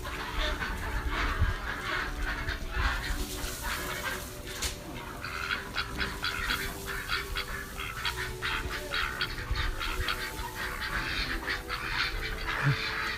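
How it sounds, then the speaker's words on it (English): Ducks at a duck race course quack and honk in a busy, overlapping chorus that carries on throughout, fairly close and loud, with no one talking over it. "Look at the little duckies."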